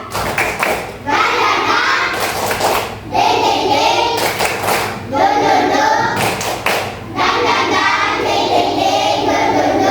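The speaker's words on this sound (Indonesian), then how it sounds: "Tepuk semangat." A classroom of children performs a rhythmic spirit clap in sharp bursts of loud group claps and thumps, with short pauses between phrases and faint young voices mixed in.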